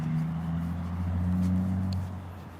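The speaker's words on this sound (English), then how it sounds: "I hear this engine sound up the street." A semi truck engine approaching up a street, a low steady rumble that swells slightly and then eases off, with no voices over it.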